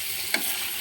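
Onion and spices sautéing in a pan for a taki fish bhuna make a soft, even sizzle, broken by one brief stirring scrape partway through.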